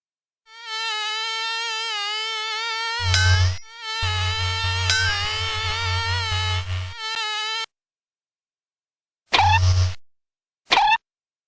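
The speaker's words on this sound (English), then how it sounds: "Insects." Insects buzz in a children's phonics learning game, a bright whining drone holding steady for a few seconds, broken by short thumping effects and brief chimes, with no talking.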